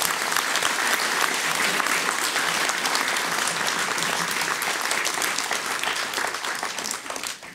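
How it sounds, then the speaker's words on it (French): Loud, sustained audience applause for conservatoire student performers at a mayor's New Year reception in Palaiseau, thick and steady throughout before easing slightly at the very end. "ils méritent nos applaudissements pour cette très belle performance"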